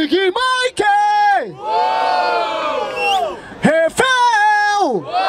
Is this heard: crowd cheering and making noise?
yes